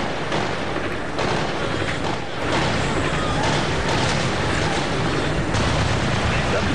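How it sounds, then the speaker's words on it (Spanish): Gunfire exchanged between Afghan security forces and an armed attacker in Jalalabad, Afghanistan, heard as dense, continuous crackling bursts and rumbling shots under steady noise, with a voice talking over it. "fuerzas de seguridad afganas intercambiaron disparos con uno de los hombres armados"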